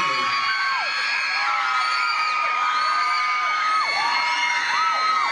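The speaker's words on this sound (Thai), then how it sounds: "ขอเสียงกรี๊ดดังๆ" A concert crowd at a mini-concert at Aeon Robinson in Roi Et screams and cheers continuously, with many overlapping high-pitched shrieks and whoops rising and falling loudly throughout.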